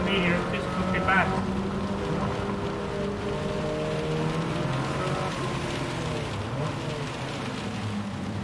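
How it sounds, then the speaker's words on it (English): Steady rain hisses across a wet race track in Gran Turismo 7, layered over the droning whine of a racing car engine, with a faint voice in the background. "Oh, it's raining."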